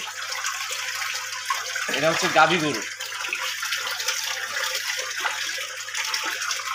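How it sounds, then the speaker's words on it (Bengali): Water pours and gushes into feeding troughs at a cattle farm with dairy cows, a steady running flow with one louder surge, while someone talks over it. "তিনি কিন্তু খাদ্য দেওয়ার জন্য চারিগুলোতে পানি দিচ্ছে।"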